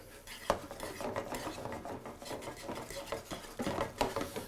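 Tongs scrape and clink against a skillet as pasta all'Amatriciana with guanciale is stirred, giving a steady run of close metallic rubs and light knocks with a few sharper taps.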